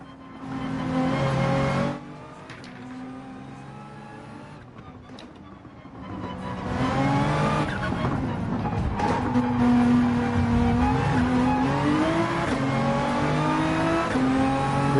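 Race car engine from Gran Turismo 7 held at full throttle, a loud steady harmonic drone with a dip around two seconds before the revs climb again, and rising and falling pitch through gear changes.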